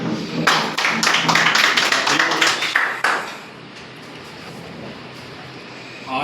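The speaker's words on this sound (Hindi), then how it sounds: "के लिए जोरदार तालियां।" Applause at a political party office opening in Lucknow: a loud, dense burst of clapping for about two and a half seconds, then a sudden drop to a quiet room.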